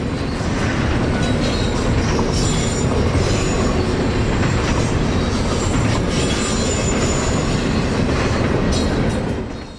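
A freight train hauling Florida East Coast Railroad containers rumbles past close by, a loud, steady roar of rolling wheels and rattling cars with faint squeals, continuing throughout without voices.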